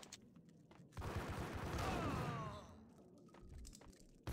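Gunfire in the Max Payne video game: a dense burst of shots blends into a loud, sustained roar with ringing tails, then fades into quieter thuds and a final sharp hit.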